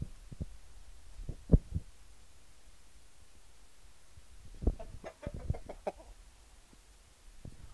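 A rooster clucks in short scattered bursts, a few isolated calls, then a livelier cluster of clucks, nearby against a quiet background.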